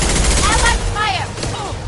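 Allied gunfire rattles continuously in Mass Effect Legendary Edition, a loud, dense barrage of rapid shots with whooshing tonal effects layered through the brief stretch.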